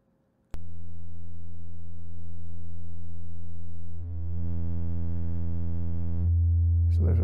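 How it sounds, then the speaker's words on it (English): A sine wave oscillator in the VCV Rack modular synth starts abruptly and holds a steady tone that thickens and brightens in two stepwise changes, alone without any talking. "Let's plug in our sine wave directly to it and see what happens there."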